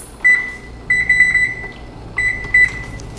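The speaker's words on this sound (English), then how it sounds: "Next, you're going to turn your oven on to 375 degrees." An oven control panel gives a series of short, high-pitched electronic beeps in three separated clusters, close and clear with no talking.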